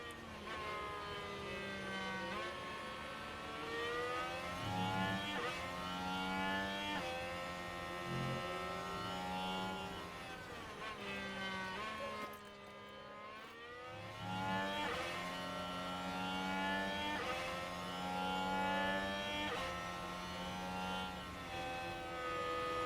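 Race car engines in the F1 Manager 2023 video game, a continuous harmonic whine with rising and falling pitch sweeps as cars accelerate and shift, fairly steady and loud with a brief dip midway.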